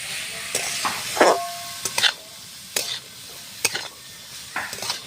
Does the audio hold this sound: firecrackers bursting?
no